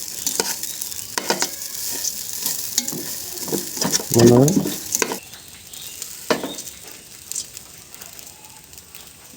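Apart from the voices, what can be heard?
frying and stirring ingredients for khichuri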